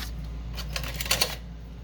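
Scissors trimming paper for a junk journal made from an altered book, heard as a short run of crisp snipping and rustling cuts close by, with a few sharper clicks near the end and no talking.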